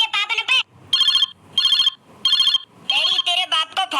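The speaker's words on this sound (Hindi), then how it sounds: "तेरे बाप को फोन आ रहा है।" A mobile phone ringtone plays loudly and close, repeating bursts of a bright electronic melody with short gaps between phrases, with no talking over it.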